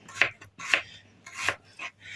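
A knife slicing onion strikes a cutting board in a few sharp, separated chops, quiet and close, with faint background hum.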